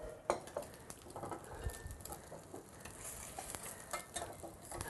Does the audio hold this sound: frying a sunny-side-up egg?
yes